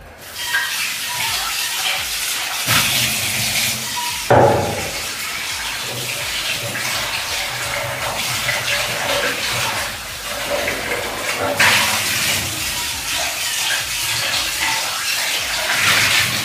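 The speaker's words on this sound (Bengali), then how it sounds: "এবার আমি কড়াইটা ধুয়ে নিয়ে আসি" Tap water runs steadily while a kadai is washed in a home kitchen, a continuous splashing rush with occasional clanks of the pan, close by.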